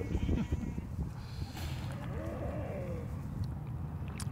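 Sheep bleat with a wavering mid-pitched cry in the middle of a continuous, busy low rumble, with the animal sounding moderately distant.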